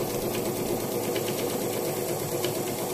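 Juki SAN703 sewing machine stitching a wide zigzag at a short stitch length, a steady continuous whirring drone with rapid mechanical chatter running evenly throughout, close and alone.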